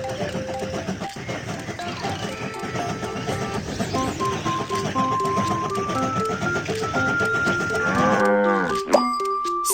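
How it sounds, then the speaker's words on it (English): Sheep standing on a railway track bleat over a busy background of tones and noise, with a louder, clearer animal call rising near the end. "Some sheep are on the train track."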